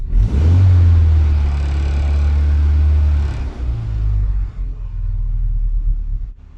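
Austin Mini engine idling steadily after carburettor and ignition tuning, a loud, close, low rumble that holds evenly for about three seconds, then dips and wavers before it is switched off near the end.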